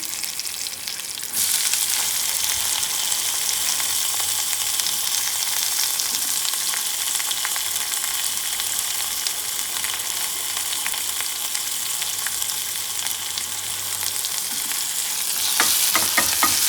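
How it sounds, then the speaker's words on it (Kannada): Onions frying in a pan, a loud continuous hissing sizzle that starts abruptly after a moment and holds steady, with light scraping and stirring near the end. "ಫ್ರೈ ಆದಮೇಲೆ ಆನಿಯನ್ ಹಾಕ್ಕೊತಾ ಇದ್ದೀನಿ"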